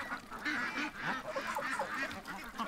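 Geese or ducks honk and quack repeatedly at close range, a busy overlapping run of calls with no talk, as one bird chews on a boot.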